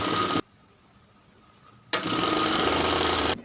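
An industrial sewing machine stitches a zipper into trousers, a loud steady mechanical chatter that cuts off, pauses in near silence, then resumes for another long continuous burst.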